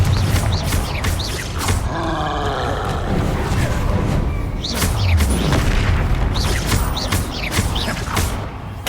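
Confringo explosion spells fired in Hogwarts Legacy, heavy booming blasts with rumbling roars that repeat every second or two over dense game ambience, loud and close.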